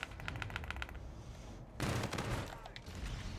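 Gunfire in a first-person shooter video game, with a quick burst of rapid automatic shots followed by a louder blast and more scattered fire, fairly faint and compressed.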